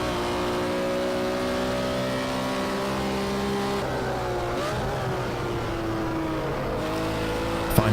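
A BMW M1 Procar racing around Brands Hatch in Project Cars 2 gives a loud, steady engine note throughout, its pitch dipping and rising as it brakes and accelerates through a corner.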